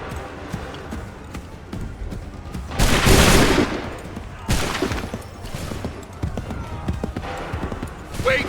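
Musket volleys in Assassin's Creed 3 Remastered: two loud, broad crashes of massed gunfire, the first lasting over a second and the second shorter. Both rise over continuous battlefield noise, with hoof-like thuds and clatter around them.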